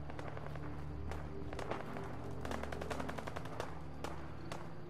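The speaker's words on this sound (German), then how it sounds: "Da schießen Menschen gegenseitig aufeinander." Rapid automatic gunfire and scattered shots crackle from a firefight between people in the video game Fallout 4, sustained and mid-distance under a low background hum, with a faint voice.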